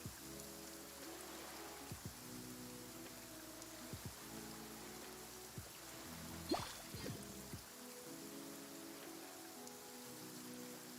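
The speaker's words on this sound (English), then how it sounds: "With rain this heavy, not only are the stars clouded, so too is my scryglass hazy." Heavy rain in the video game Genshin Impact, a steady wash of downpour with music-like tonal layers running throughout, one sharper crack near the middle.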